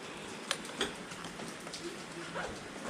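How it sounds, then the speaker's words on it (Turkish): Rain falls outdoors in a steady, broadband hiss with a few sharper drop impacts, heard at a moderate level before a motorcycle courier rides home, with no clear talk over it. "Yağmur yağıyor."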